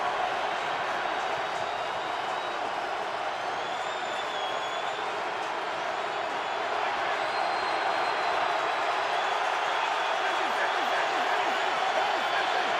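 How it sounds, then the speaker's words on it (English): A large football stadium crowd roars continuously during an NFL game between the Baltimore Ravens and Pittsburgh Steelers, a dense, steady wash of cheering heard from a distance with faint whistles above it and no clear foreground talk. "Crowd in full throat."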